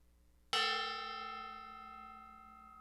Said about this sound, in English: Nice quiet gong.